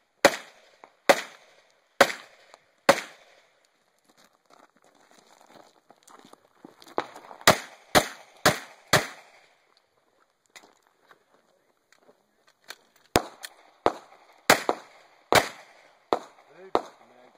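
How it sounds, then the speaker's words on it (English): Handgun shots fired on an IDPA shooting stage, sharp loud single cracks in separated bursts with quiet gaps and faint background noise between strings of fire, no talk. "Pulls his gun. Fires three from retention."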